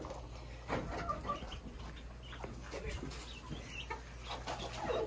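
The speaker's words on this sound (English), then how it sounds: "You didn't get to see the ducklings." Week-old ducklings peep in scattered, soft chirps over a steady low background hum, with no one speaking.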